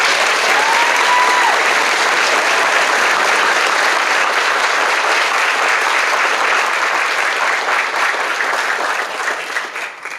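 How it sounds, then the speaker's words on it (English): Audience applause fills a student induction ceremony at the East Valley Institute of Technology, a dense, steady roar of many hands clapping that holds strong throughout and tapers slightly at the very end. "Let's give them a round of applause, please."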